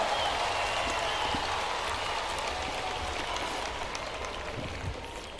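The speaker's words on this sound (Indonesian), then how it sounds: "Semua tepuk tangan ya." Applause from an audience at a gathering addressed to Christian communities, a steady broadband patter of many hands that stays fairly constant for several seconds and slowly fades, with no talking over it.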